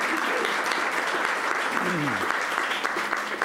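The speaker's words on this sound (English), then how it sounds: "Let's give a round of applause." Thick applause from the audience at a village address fills the room after a restaurant-served meal, with steady crowded clapping and murmured voices mixed underneath.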